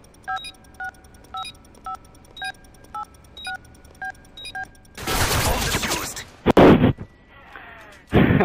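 A planted bomb in a video game ticks with a steady run of evenly spaced electronic beeps, then detonates in a loud, roaring blast followed by two more sharp bursts of explosive noise.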